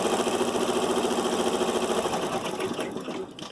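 An embroidery sewing machine tacks down a canning jar applique, a steady rapid needle rattle running loud and close throughout with a faint mechanical hum underneath, easing slightly toward the end.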